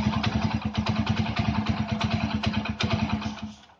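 Motorcycle engine running, reportedly on an HHO generator, with a fast steady thumping idle and clattering mechanical noise, close and loud throughout.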